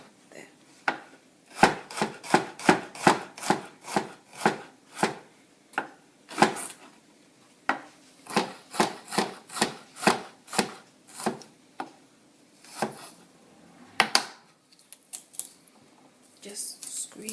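Garlic cloves being sliced with a knife on a cutting board while preparing Chinese noodles, a steady run of crisp, close chopping taps in quick bursts with short pauses between them.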